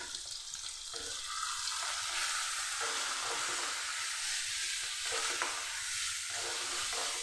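Onion, green chili, ginger-garlic paste, cumin, coriander powder and turmeric sautéing in a pan, a soft steady sizzle with rhythmic scraping stirs at regular intervals.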